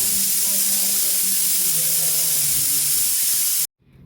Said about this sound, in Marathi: टिक्कीला एकदम छान असा शेप देऊयात आणि त्याला शॅलो फ्राय करून घेऊयात